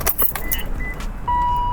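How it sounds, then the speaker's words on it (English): A BMW E39 M5 being started, with key jingles and clicks at first, then a steady tone and engine hum rising as it comes to life, close inside the cabin with no talking. "Starting the car, turning off all the climate control."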